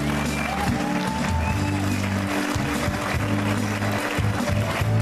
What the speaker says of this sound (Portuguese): Aplausos para São José.